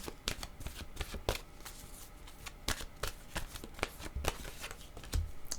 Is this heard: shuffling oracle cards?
yes